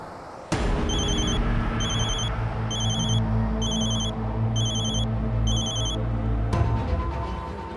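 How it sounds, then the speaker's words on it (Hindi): A telephone rings in a police-drama scene, six evenly spaced electronic ring bursts over a loud low background hum that starts and stops abruptly. "जरूर ये उस ब्लैकमेलर का फोन होगा।"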